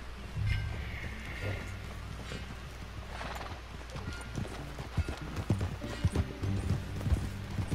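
Rhythmic horse hooves in the video game Red Dead Redemption 2 clip-clop steadily under a low droning background, with a faint whinny early on.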